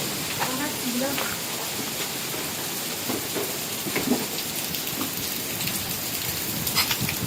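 Steady rain patters and hisses on surfaces around a walk through a residence in Bankya, a constant wash with scattered drop ticks while voices talk faintly underneath.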